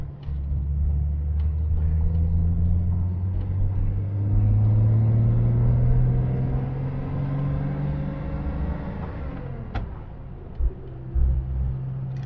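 A 1960 Austin Westminster A99 cruises at 30 mph in overdrive with a steady low engine drone and road rumble, the pitch easing up and down, with a few small knocks near the end.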